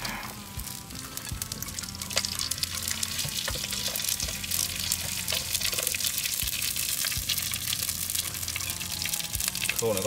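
Dried fish fry in a pan with a continuous crackling sizzle, steady throughout with occasional sharper pops and faint background voices.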